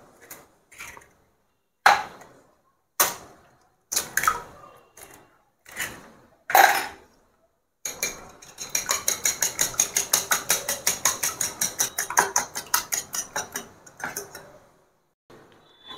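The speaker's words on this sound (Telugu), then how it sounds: "ఇప్పుడు మనము 2 eggs బీట్ చేసుకుంటాము." A fork or whisk beats two eggs in a bowl, first with scattered taps against the bowl, then with a long run of fast, even clicking strokes that ends in a few slower taps. The sound is close and there is no talking.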